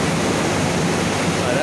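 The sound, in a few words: make-up water flowing into air conditioning cooling tower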